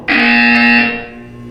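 A Portal 2 test-chamber buzzer blares once, a loud harsh electronic tone with strong steady harmonics lasting under a second before cutting off into a fading ring.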